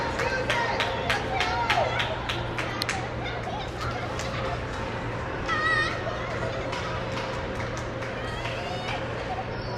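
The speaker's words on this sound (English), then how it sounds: "Quite the crowd here today." A full bleachers crowd at a Sunday afternoon high school hockey game, Prior Lake against the Stormhawks, a steady near babble of many voices with children's shouts and a constant low rink hum.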